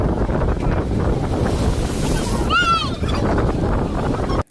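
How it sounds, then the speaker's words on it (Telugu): Waves wash and roar continuously with gusty wind buffeting the microphone, and a brief whistling tone rises and falls midway. "వాటర్స్ దగ్గర చల్లగా ఈ వాటర్ సౌండ్స్‌కి ప్రశాంతంగా ఉంది"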